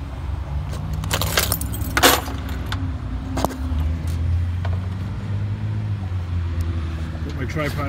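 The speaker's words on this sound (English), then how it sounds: "Little cap, some car keys." Car keys jingle and clink in several bright bursts over a steady low rumble of a nearby vehicle, with a voice talking faintly underneath.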